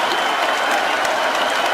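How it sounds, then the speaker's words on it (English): A UFC arena crowd at UFC 202, after the Conor McGregor vs Nate Diaz fight, roars with dense, continuous applause and cheering that fills the space at a loud, steady level. "This crowd is on its feet."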